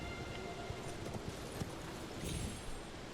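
A horse's hooves clip-clop in a steady patter under a wash of outdoor ambience in Elden Ring, the horned steed's footfalls moderately close and continuous through the clip.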